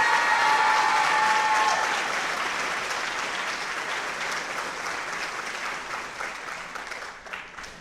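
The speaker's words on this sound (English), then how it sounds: "Give one more round of applause for our soloist on this song" Audience at a high school choir fall concert applauding a soloist, dense clapping that starts full and gradually thins and fades away, with no talking.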